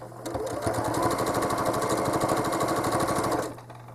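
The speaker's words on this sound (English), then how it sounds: "I'm going to stitch a loop inside" A home sewing machine stitches a quilting loop in a quilt, its needle chattering in a fast, even mechanical run for about three seconds, close and fairly loud, before winding down.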